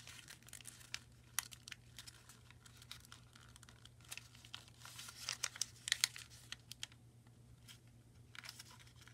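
Origami paper creased and folded into an Armadillosuchus model, a close, quiet run of crisp crinkles, taps and sharp rustles in irregular bursts, busiest near the middle, with no talk.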